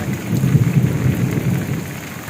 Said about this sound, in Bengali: ভারী বর্ষণ, বজ্রপাত হচ্ছে বড় বড়। টিনের চালে বৃষ্টিতে ভেজার শব্দটাই ভালো লাগে